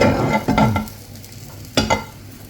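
Fried coconut rice sizzling in a small pan while a spatula scrapes and stirs it, with a few sharp stirring strokes at the start and another burst near the end over a soft steady sizzle.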